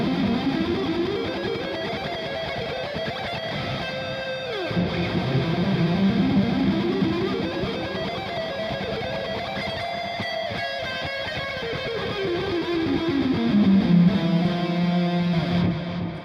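Guitar played through a Kemper amp with heavy reverb, distorted sustained notes and sliding bends washing into a long ambient tail, loud and continuous with no voices.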